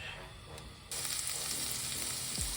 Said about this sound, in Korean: 이제 재료들을 볶아보겠습니다이 상태에서 올리브오일을 스매시 다진 마늘